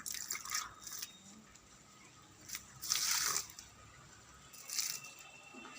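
Garden plants, including a bottle gourd vine, being watered at the roots in winter, heard as three short bursts of splashing and dripping close by, separated by quieter gaps.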